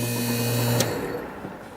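A Whirlpool 6000 BTU air conditioner with a reciprocating compressor runs close by, giving a loud steady mechanical hum and rattle. The hum cuts off abruptly partway through, leaving a softer airy noise.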